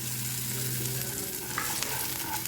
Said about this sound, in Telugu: ఇవి ఇలా చక్కగా వేగిపోయినాయి చూసారా. ఇలా వేగిన తర్వాత ఇందులో ఇలా పచ్చి కొబ్బరి వేసేయండి.